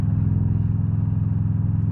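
Engine of a 2013 Victory Cross Country touring motorcycle under throttle, a loud, close, deep throbbing rumble that holds steady throughout the short burst, with no voices.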